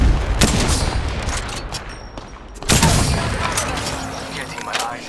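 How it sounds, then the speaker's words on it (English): A missile barrage in Apex Legends lands in a rapid fusillade of sharp bangs and explosions: a dense burst at the start and another heavy one midway, with scattered pops between, while game voice lines play over the fire. "Launching missiles."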